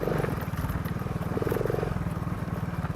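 Motorcycle ridden along the rough, bumpy Monkey Trail road in Costa Rica, its engine putting out a steady low drone. Rattles and clatter from the bumps run continuously over the drone.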